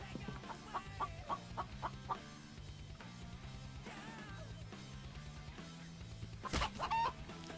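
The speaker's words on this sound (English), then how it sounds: "I did hear another chicken." Chickens in The Infected video game cluck in a series of short, repeated calls over looping background game music, with a louder squawk near the end.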